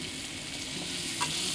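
Boiled taro and fried prawns sizzle in a pan as they are stirred, a continuous soft hiss of frying with a light scrape of the spoon partway through, close and moderately quiet.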